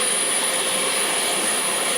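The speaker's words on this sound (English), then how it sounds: "if you push that button, will turn your sander or your dust extractor on." A Festool CT MIDI dust extractor runs with a steady, loud, continuous whoosh of airflow and a high whine, unbroken and close by.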